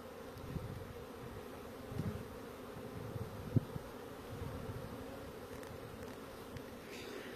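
A dense, steady hum of many honeybees buzzing close by, a continuous drone with occasional louder passes of individual bees near the microphone.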